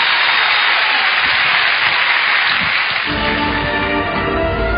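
Loud, dense audience applause at a stage comedy show, many hands clapping together in a steady continuous wash, with a faint tonal sound rising beneath the clapping near the end.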